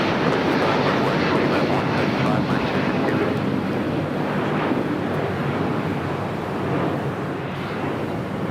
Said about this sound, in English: the A350-1000 now rolling down